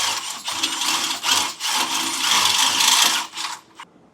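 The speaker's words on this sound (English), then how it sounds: "we're just going to drill out enough to fit our bolt through." A drill grinding steadily through the metal of a 2018 Jeep JK Wrangler to fit a trailer hitch bolt, a harsh high-pitched whir with brief pauses as the bit is worked around, close up.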